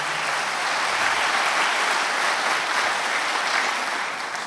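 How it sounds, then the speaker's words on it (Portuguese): A church congregation claps in a steady, dense burst of applause that fills the room evenly and stays loud throughout, with no voices over it. "dê uma salva de palmas a esse Senhor"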